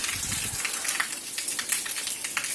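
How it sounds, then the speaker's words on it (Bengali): Rainwater runs off a rooftop garden after a shower, a close, continuous splashing gush with scattered sharper drips, and no one speaks. "এই যে উপরে ছাদ থেকে পানি পড়তেছে পানির শব্দ আসতেছে"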